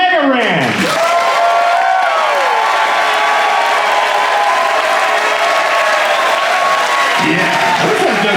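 A large audience aboard the JoCo Cruise 2025 bursts into loud, sustained applause with cheering and whoops for a rapper, a dense roar of clapping that fills the whole stretch with voices rising over it.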